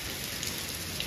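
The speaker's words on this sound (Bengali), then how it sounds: "আর এইটা তো ব্যালকনি থেকে দেখা যাচ্ছে বৃষ্টি হচ্ছে নিচে পানি জমছে" Steady rain falls at night, heard from a balcony as a dense, even hiss of drops with faint patter on surfaces below, continuous and alone without any voices.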